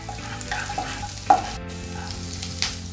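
Garlic cloves and a small chopped green chili sauté in butter in a pan for sweetcorn mushroom soup, a soft, steady sizzle broken by a few light scraping stirs, close by and with no talking.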